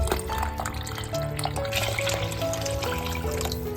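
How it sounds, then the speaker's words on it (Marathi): Water poured into a pot of crab curry being made for a gravy, a continuous close liquid trickle and splash with rising tones as the pot fills, no speech. "म्हणजे इकडे पाणी घालून झालेलं आहे"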